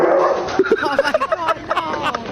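A man imitates dog barks in a traffic cone prank, a quick series of yappy, whimpering bark sounds close to the mic, with a voice mixed in.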